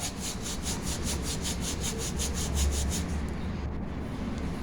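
Dry-roasted kasuri methi (fenugreek leaves) crushed between the palms makes a close, crisp rubbing rustle, repeating in quick, even strokes for several seconds before easing off.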